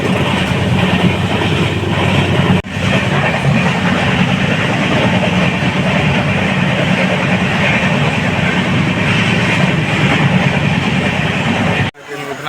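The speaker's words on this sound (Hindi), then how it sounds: "अब आगे जाने के लिए ये ट्रेन आगे बख्तियारपुर रेलवे स्टेशन पर रुकी" The Udhna–Jaynagar special passenger train rolls into Bakhtiyarpur station, its loud, continuous rumble and rail clatter heard from close by, broken by a couple of sharp jolts.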